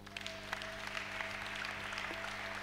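A church congregation applauds together during a sermon, a steady, dense wash of clapping from many hands that continues evenly throughout, with a low sustained tone underneath.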